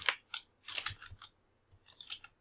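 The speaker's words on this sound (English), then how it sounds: "on top you type in the domain name" Keystrokes on a computer keyboard as a domain name is typed, several short clicking bursts in quick clusters separated by brief pauses, close and fairly quiet with no talking.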